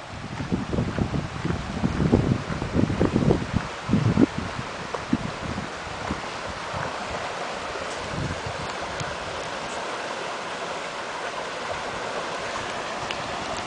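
A creek flows under an easement road in a rural setting, a steady, soft rush of water that is mixed at the start with rustling and wind buffeting on the microphone, then settles to an even wash.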